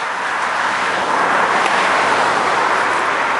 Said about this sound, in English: A lot of traffic this morning.